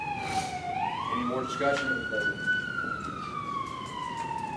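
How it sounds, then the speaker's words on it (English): A wailing emergency siren sweeps up and down in pitch, passing outside during a committee meeting, heard at moderate distance beneath a man's spoken question. "No extra charge for the siren."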